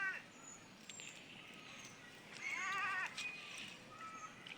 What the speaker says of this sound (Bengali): সম্পূর্ণ দেশি লাল কালো সাদা মিক্সার করা ছাগল